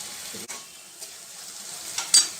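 Chopped tomatoes with salt frying in a pan while making pav bhaji, a quiet, steady sizzle with a few soft scrapes of stirring and a brief clink near the end.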